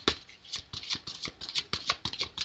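Tarot cards shuffled by hand at close range, a run of quick riffling and sliding bursts in an irregular rhythm, quiet and with no voices.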